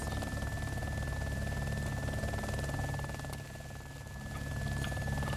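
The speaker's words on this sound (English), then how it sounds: "Oh yeah, here comes a chopper." A helicopter flies overhead in the DayZ video game, a steady loud rotor drone and engine whine that dips briefly and then swells again, with no talk.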